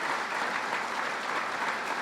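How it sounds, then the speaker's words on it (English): A large crowd claps steadily and loudly at a police academy graduation ceremony, a dense, even wash of applause with no pauses. "I need everybody to give them a wonderful round of applause"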